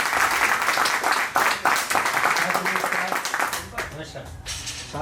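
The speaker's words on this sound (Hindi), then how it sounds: "तालियों की गड़गड़ाहट आपकी रुकनी नहीं चाहिए दोस्तों" An audience at an open association meeting applauds, dense, loud clapping that fills the room before thinning out, while someone speaks over it on a microphone.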